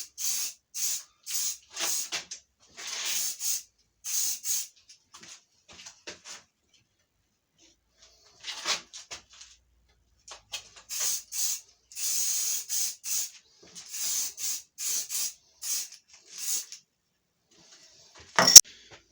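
Aerosol lacquer sprayed onto painted model hummingbirds pinned through cardboard, heard as a series of short hissing bursts in two groups with a quiet gap between, ending in a brief clatter.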